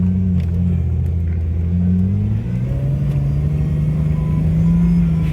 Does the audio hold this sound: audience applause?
no